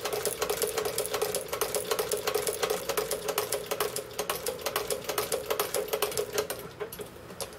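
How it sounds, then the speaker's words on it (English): A Singer 29-4 treadle-style leather sewing machine stitches a foraging bag, a rapid, evenly spaced mechanical clatter close up, slowing and faltering briefly near the end. "I have a hard time sewing straight lines in this machine"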